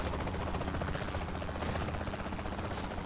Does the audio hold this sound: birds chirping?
no